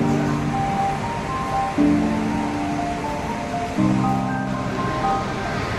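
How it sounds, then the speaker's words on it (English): The Niagara rapids at the Whirlpool give a continuous broad roar of rushing water, with a low steady mechanical hum over it. "That's where we came from, the rapids."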